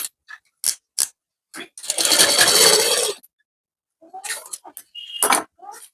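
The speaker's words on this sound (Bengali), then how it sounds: "তো চলো আমি এটা সেলাই করে দেখাচ্ছি" A sewing machine stitches fabric in one sustained run of about a second and a half, bracketed by sharp clicks and taps of handling, with short bits of nearby sound before and after.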